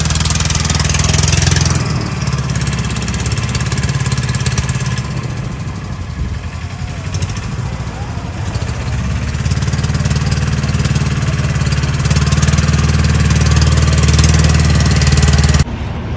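A motor boat engine runs steadily on a river pilgrimage boat ride at Omkareshwar, a loud continuous low drone with a strong low rumble that holds throughout with slight swells.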